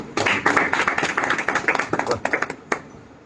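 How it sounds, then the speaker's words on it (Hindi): An audience at a Bhagavad Gita lecture claps loudly for Vijay Prabhu, a dense, lively burst of many hands that fades out after a few seconds. "विजय प्रभु के लिए जोरदार तालियां।"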